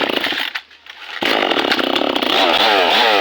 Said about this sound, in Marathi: ह्या नारळ झाड आम्ही तोडला